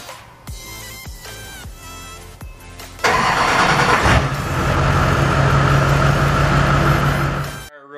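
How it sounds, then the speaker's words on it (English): An LB7 work truck engine cranks over on a new starter in several rhythmic bursts, then fires and settles into a loud, steady running rumble that fades at the very end. "We're going to get her on the ground and test out our new starter too."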